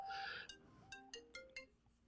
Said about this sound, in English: I got to pick up Robin's phone call